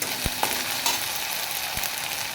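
Whole spices and a bay leaf fry in hot oil, giving a steady broadband sizzle with a few soft knocks of a spoon against the pan, close and moderately loud with no voices.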